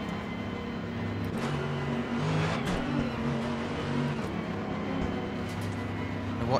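GT3 race cars accelerate together from a rolling start in the Assetto Corsa Competizione racing game at Bathurst, a steady loud engine drone with layered tones that rise slightly mid-clip, continuous and close.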